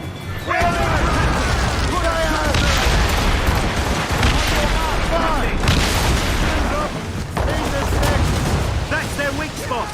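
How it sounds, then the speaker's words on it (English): Mortar shells booming around a ship in Assassin's Creed Rogue, a dense barrage of heavy blasts and gunfire rumbling continuously beneath overlapping shouted voices and game noise. "Mortars incoming, Shay!"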